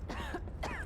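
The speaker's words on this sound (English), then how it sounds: "Oh, she's just standing out there coughing." Two short, rough coughs from a female character in the video game Lies of P, close and fairly loud, separated by a brief pause.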